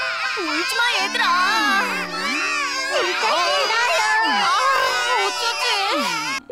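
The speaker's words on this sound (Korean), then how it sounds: "울지 마, 얘들아." Cartoon children crying and wailing in an animated kids' show about little buses, with sobbing cries rising and falling throughout, close and loud, mixed with voiced character sounds.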